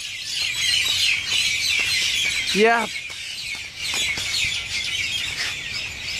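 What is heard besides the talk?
birds chirping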